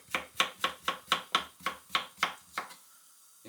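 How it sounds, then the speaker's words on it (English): A knife chops onions into little pieces on a board, about ten quick even thuds in steady rhythm, close and clear, then it stops. "we're just cutting it into little pieces, just like that"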